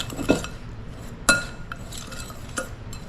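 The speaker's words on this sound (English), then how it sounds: "We'll go ahead and mix those 2 together." Packed brown sugar and flour are stirred together in a bowl, giving three short clinking scrapes of a utensil against the bowl. The scrapes are spaced apart with quiet between them and no voices.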